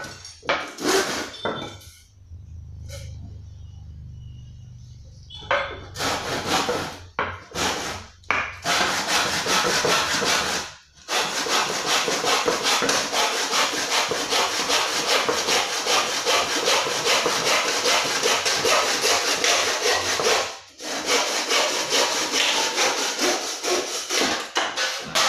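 A handsaw cuts through wood in steady, close back-and-forth strokes while an Indonesian musical instrument is being made, the rhythmic rasping running almost continuously after some earlier knocks and handling sounds.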